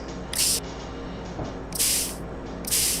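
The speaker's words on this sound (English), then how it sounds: "We are just spraying with the acid to clean the remaining parts" Acid sprayed onto a fossil bone while cleaning it in the game Dinosaur Fossil Hunter, three short hissing bursts over a steady background hum.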